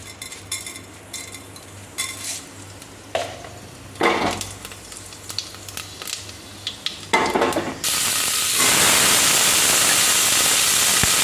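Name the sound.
spatula stirring in a pan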